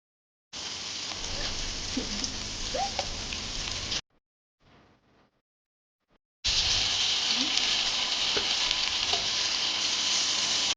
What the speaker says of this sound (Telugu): ఇప్పుడు దీంట్లో మనం నీట్గా వాష్ చేసి పెట్టుకున్న మటన్ హెడ్ని అయితే వేసుకుందాం